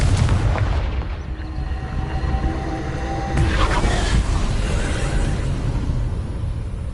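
A Confringo explosion spell from Hogwarts Legacy bursts with a deep boom, followed by a second sharp blast partway through, over a rumbling low background.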